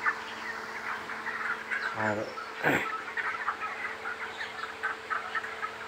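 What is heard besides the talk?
broiler chickens in a farm house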